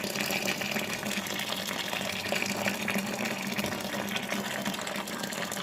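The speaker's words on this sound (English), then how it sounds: "And then put the rest of my boiling water in there." Boiling water pours steadily into a home-brew stout fermenter, a continuous broadband gushing and splashing that lasts throughout at moderate loudness.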